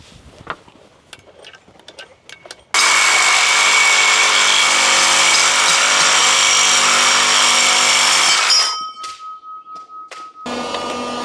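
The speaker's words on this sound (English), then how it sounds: "We're going to set up a heavy metal blade in the Sawzall." A Sawzall reciprocating saw fitted with a heavy metal blade cuts off deck piles, a loud steady buzzing rasp running for about six seconds before stopping abruptly, with a few faint knocks before and after.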